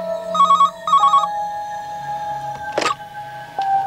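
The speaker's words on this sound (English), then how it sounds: "He was looking forward to a nice cup of tea when his phone rang." A telephone rings in short repeated electronic trills, loud and close, two bursts of ringing followed by a clatter as it is picked up.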